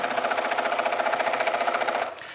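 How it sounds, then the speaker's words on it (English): Rapid, rhythmic stitching from a nearby sewing machine running through fabric for a Japanese rice bag, loud and steady for about two seconds before it slows and stops. "So we're sewing right from the very beginning or right from the very top."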